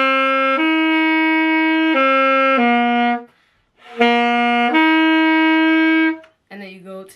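Saxophone playing the opening notes of Amazing Grace, sustained clear tones in two short phrases separated by a brief pause, loud and close, with no talking over it.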